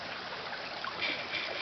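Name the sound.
creek water flowing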